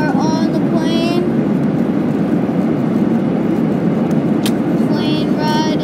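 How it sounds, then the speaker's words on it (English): Steady broadband cabin roar of a passenger airliner in flight from Philadelphia, a constant loud drone filling the whole stretch, with a few faint voices or announcements surfacing briefly over it. "We are on the plane."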